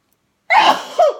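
A single loud, close sneeze with a sharp burst and a short trailing vocal tail.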